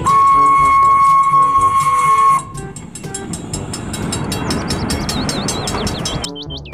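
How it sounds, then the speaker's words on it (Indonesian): Toy Thomas train: a steady electronic whistle-like tone plays for a couple of seconds, then gives way to busy rattling toy-train motion with chirpy electronic sound effects, loud and close, with no talking. "Kereta Thomas."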